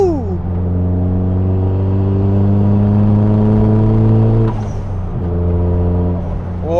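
A 34-year-old car is driven along the String road on Arran, its engine a loud, steady drone that rises in pitch under load, dips briefly near the five-second mark, then pulls on again, all close and continuous.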